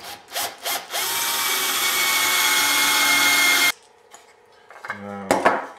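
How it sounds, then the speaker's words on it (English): A power drill bores pocket screw holes into clamped wood for a DIY hockey stick, with a sustained high whine lasting a few seconds. Shorter bursts, clunks and handling knocks come before and after it. "I'm going to start drilling."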